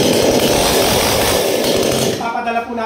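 A 24-inch chainsaw roars loudly and steadily, then drops to a lower idling putter near the end.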